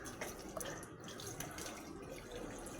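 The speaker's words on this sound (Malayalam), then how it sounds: "ഫസ്റ്റ് ജസ്റ്റ് വെള്ളം എടുക്കുക," Water runs and splashes faintly and continuously in a sink as someone scoops it up to wash their face, with light irregular trickles and drips.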